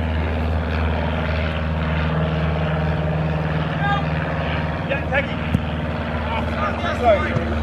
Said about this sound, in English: You'll notice a lot of planes around and all.